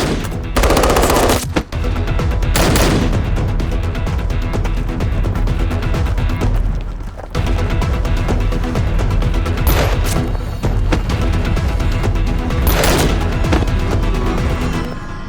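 A film shootout at a doorway: loud, sustained machine-gun fire rattles almost without pause, with a few sharper bursts and brief breaks, dense and close throughout.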